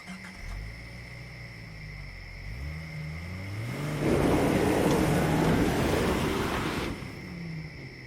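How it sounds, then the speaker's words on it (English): A car in an animated children's train show drives off with a rising engine roar that swells through the middle of the clip and then fades, following softer tonal sounds at the start. "Sir Topham Hatt walked back to his car and drove away"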